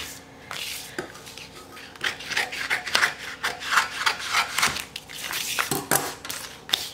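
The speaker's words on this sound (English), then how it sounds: "I'm going to go ahead and trim the vinyl." Stencil vinyl being trimmed for a rustic farmhouse sign, a close, continuous rough rubbing and scraping with rhythmic strokes and occasional sharper scratches.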